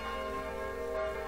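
Bells ringing in the video game Kingdom, a sustained, faint metallic tone with dense overtones over low ambient background, with no talk.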